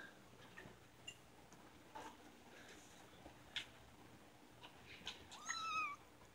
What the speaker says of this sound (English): Crazy cats.